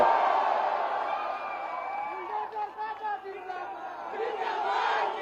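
A large crowd cheers and roars at a Bihar election rally in Siwan, loud sustained shouting and whooping with overlapping voices and chants, swelling again near the end.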